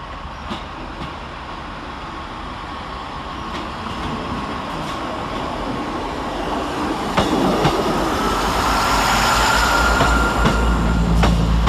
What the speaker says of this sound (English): Next out to depart is 158859, working the 1355 Northern service through to Newcastle.